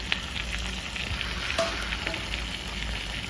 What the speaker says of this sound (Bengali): তার সাথে হাসির তেলটা দিয়ে ভালো করে নাড়াচাড়া করে দিয়েছে